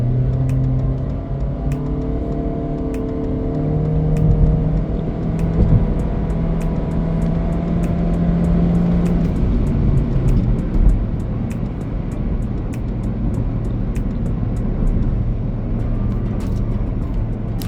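A 2023 Honda Civic RS 1.5 Turbo in sport mode with wheelspin accelerates hard from a standstill to 100 km/h, the engine droning loudly and rising through the gears, with steady road and wind roar heard from inside the cabin.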